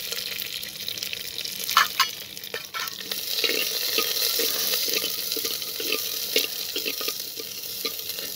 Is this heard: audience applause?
no